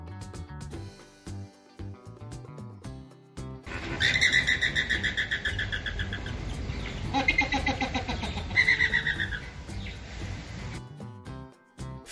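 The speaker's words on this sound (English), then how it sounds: "Flamingo." Flamingo calls sound as bursts of honking, chattering bird voices starting about four seconds in and running to the end, busy and fairly loud over a music bed.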